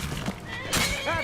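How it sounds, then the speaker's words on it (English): A horse in Skyrim gives a short, close whinny near the end, following a brief stretch with hoof thuds and a voice speaking. "I thought he was trying to fight the horse"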